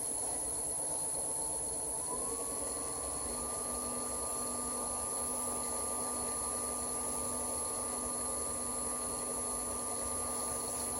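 A woodturning lathe spins up and runs steadily while a candle holder is being turned, a constant motor whine rising to a higher pitch after a couple of seconds and then holding even, with a faint high hiss throughout.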